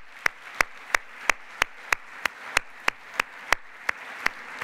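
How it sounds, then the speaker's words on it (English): Applause for a program committee at a science conference comes through as sharp, evenly spaced single claps, about three per second, crisp and close with quiet between them. "could we all give the program committee and Howard a round of applause?"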